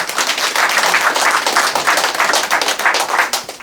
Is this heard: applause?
yes